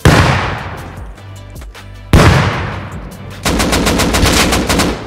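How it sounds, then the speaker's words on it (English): Gunfire in the video game Rust, loud close bursts of rapid automatic shots in several volleys, with a brief lull between them, and no talking. "Headshot him."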